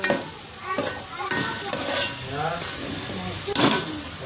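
Onions sizzle in a pan with garlic, ginger and chili paste as a spoon stirs and scrapes, giving a steady frying hiss broken by intermittent clanks of utensil on metal.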